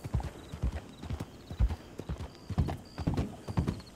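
A horse in a western roleplay game clip-clops in a steady walking rhythm of hoof falls, close and clear, and thin, high whinny-like tones come in briefly.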